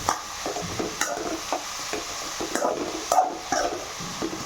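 Chopped onions sizzling in a pan for chicken biryani, stirred with a spoon in short scraping strokes every half second or so over a steady close frying hiss; no voices.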